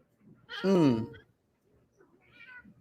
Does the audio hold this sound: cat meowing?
yes